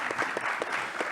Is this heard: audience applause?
yes